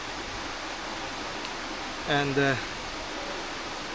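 Steady broadband rushing of water at Erawan Waterfalls fills the whole stretch, a constant hiss with no breaks, while someone speaks briefly in the middle.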